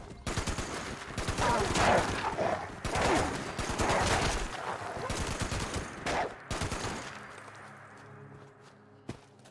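Gunfire in Fallout 76 from a two-shot hunting rifle, heard as dense, loud bursts of shots that crowd the first seven seconds, followed by a quieter stretch with a single sharp report near the end.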